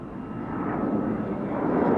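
A CAC Sabre jet, the Australian version with a Rolls-Royce Avon engine, roars past at an RAAF anniversary airshow, giving a loud, steady, broad rumble that builds slightly with no talk over it.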